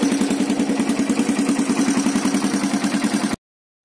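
Smoky Yamaha AG200 motorcycle engine idling steadily, a close, even chugging pulse with mechanical clatter running throughout until it cuts off abruptly.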